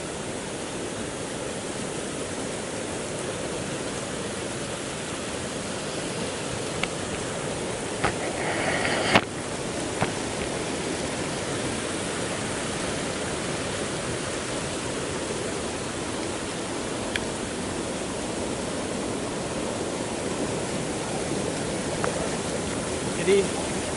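Waterfall in the forest of Gunung Banteng, Kutai Kartanegara, a steady broadband rush of falling water heard alone at moderate level with a few faint clicks and knocks.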